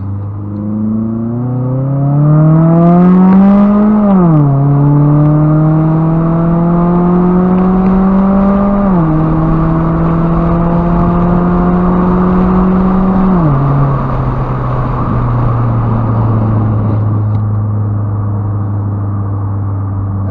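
A 2014 Scion tC engine hums loudly and steadily as the car drives, its pitch climbing and dropping with each gear shift, a close, continuous whir.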